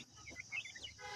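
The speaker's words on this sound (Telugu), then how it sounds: "గిరిరాజా కోళ్ళు అంటారు కదా" Giriraja chickens, young birds bought from a roadside seller, give a short run of soft, high clucks and peeps at close range with no talking.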